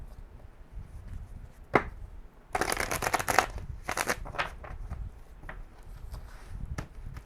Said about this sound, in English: One more shuffle, I swear.